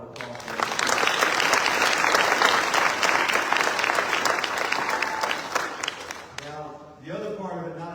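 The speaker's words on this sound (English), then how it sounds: "Have another round of applause for them" A crowd at a family scholarship award ceremony breaks into loud, sustained clapping that holds steady for several seconds and fades near the end, with a voice starting to speak over the tail.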